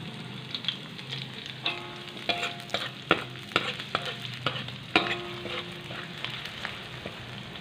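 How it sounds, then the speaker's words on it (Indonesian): Garlic sautéing in a pan, a crackling, popping sizzle with clinks and scrapes of a utensil stirring against the metal at irregular intervals, close and fairly quiet. "Kita tumis hingga harum"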